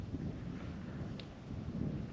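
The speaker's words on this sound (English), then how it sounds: "Got windy again." Steady wind buffeting over open lake water during a canoe trip, a continuous low rumbling rush that stays fairly loud and even throughout, with no talk.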